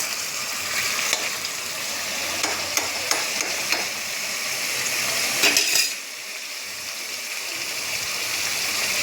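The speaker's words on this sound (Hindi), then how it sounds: "मिक्स कर रही हूँ मैं इसको अच्छे से।" A spoon stirs a mixture containing chopped green chillies in a pan, with steady scraping and faint sizzling, a few sharper clinks of utensil against the pan, and a brief louder scrape near the end.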